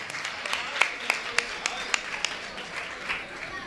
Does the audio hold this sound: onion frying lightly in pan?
no